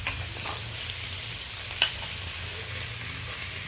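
Oil heats in a wok alongside cooked crabs, producing a steady close sizzle with light stirring and one sharp click midway, no voices present.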